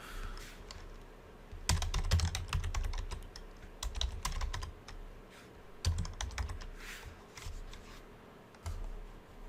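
Typing on a computer keyboard, with rapid bursts of close key clicks in uneven clusters broken by short pauses, fairly quiet overall, and no talking.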